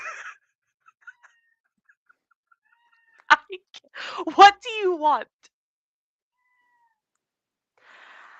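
A cat meows several times in close succession, loud and near, with a person speaking to it around the calls in a quiet room.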